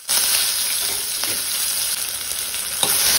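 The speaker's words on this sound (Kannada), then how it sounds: "ನಾನಿಲ್ಲಿ 2 ಟೇಬಲ್ಸ್ಪೂನ್ನಷ್ಟು ಕೊಕೊನೆಟ್ ಆಯಿಲ್, ಅದಕ್ಕೆ ಮಸ್ಟರ್ಡ್ ಸೀಡ್ಸ್ ಹಾಕಿ ಕೊಡ್ತಾ ಇದ್ದೀನಿ." Mustard seeds, red chilli and curry leaves sizzle and spit in hot coconut oil for a sambar tempering, a steady close crackle with a few sharper pops and no voices.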